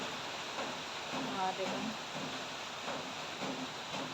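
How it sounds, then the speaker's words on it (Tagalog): Steady heavy rain drums on a corrugated iron roof as a dense, continuous wash of patter, with a brief quiet voice heard over it. "Malakas na naman ang patak ng ulan."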